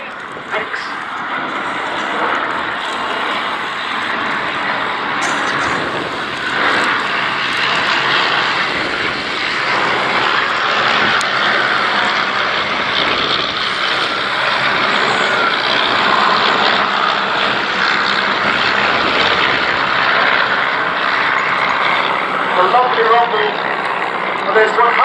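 A formation of Tiger Moth biplanes with 130-horsepower Gipsy Major engines passes at an airshow, a sustained droning propeller roar that swells and lingers, with a commentator talking over it.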